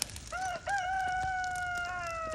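A rooster crows one long, drawn-out call close by, with faint clucking and farmyard noise around it.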